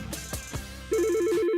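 A telephone rings in a radio advert, a warbling electronic trill starting partway in and repeating steadily after a couple of soft thuds.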